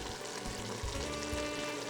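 Cooked green beans in a pan being cut with a wooden spoon, heard as a soft continuous frying sizzle with faint scraping, close and fairly quiet.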